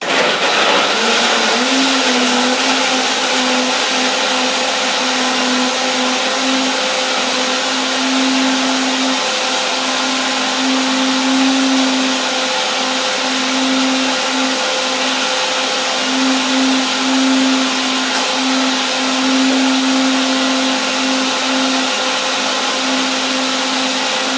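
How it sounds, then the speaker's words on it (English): A kitchen blender runs continuously at close range, grinding almonds with water into almond milk. It gives a loud, steady motor whine with a low hum for over twenty seconds, and no one speaks. "Put the almonds in the blender with the water and dance"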